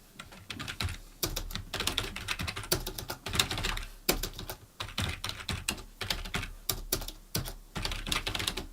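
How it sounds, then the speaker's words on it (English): Steady typing on a computer keyboard: a quick, uneven run of close, crisp key clicks for several seconds, with short pauses between bursts and no voice. "Now let's forget my terrible typing."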